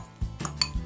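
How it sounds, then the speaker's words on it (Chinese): Psyllium husk powder being stirred quickly with a utensil in a small bowl alongside white pepper and water, giving a few brisk clinks and scrapes against the bowl at close range, with no talking. "快速拌匀，避免结块。"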